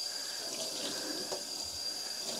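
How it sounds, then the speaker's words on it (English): Cold water runs steadily from a tap into a sink, a continuous close splashing stream with no talking. "This is just cold tap water at the moment."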